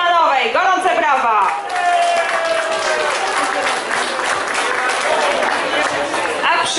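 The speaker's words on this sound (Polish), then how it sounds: "Gorące brawa!" Loud applause from a crowd fills the room, steady and continuous, with cheering voices mixed in at the start.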